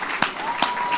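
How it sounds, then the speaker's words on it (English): Brief applause for a panel at a cannabis conference in Berlin, with a constant crowd-noise bed and two sharp, distinct claps standing out within a single second. "give a round of applause for this panel and for yourselves"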